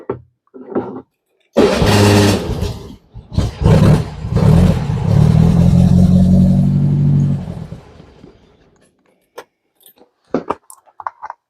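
A 1961 VW Beetle engine, fed from an external gas can after sitting over a decade, cranks and fires, roars and runs roughly for several seconds, then dies out, leaving faint clicks and ticks.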